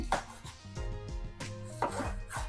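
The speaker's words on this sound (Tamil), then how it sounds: "செரி டொமேட்டோவை கட் பண்ணிக்கிடுவோம்." A knife slicing cherry tomatoes on a wooden board while preparing mutton steak with mixed vegetables, giving several close, quick chopping taps and soft rubbing scrapes in an uneven rhythm.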